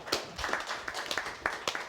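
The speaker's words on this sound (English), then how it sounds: "Everyone did round of applause" Light, scattered hand clapping from a few people, quiet and uneven, with irregular sharp claps over a soft background.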